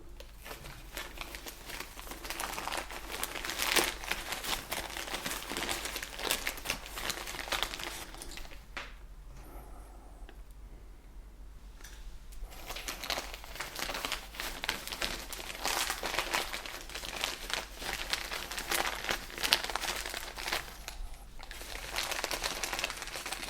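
Polyethylene plastic wrapped around a ficus benjamina trunk for air layering crinkles and rustles continuously as it is filled, with close, busy crackling that briefly pauses midway and then resumes.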